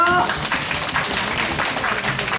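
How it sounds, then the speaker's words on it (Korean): Applause from an audience at a senior welfare center's monthly birthday celebration, a dense steady patter of many hands clapping at moderate volume, with some voices and chatter mixed in. "박수로 환영해주세요."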